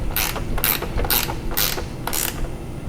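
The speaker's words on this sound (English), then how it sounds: "ratchet wrench to help me speed things up a little bit." A ratchet wrench tightens the bolt on an ArmorTech door limiter in a cramped spot, five quick rasping bursts of clicks in an even rhythm, loud and close.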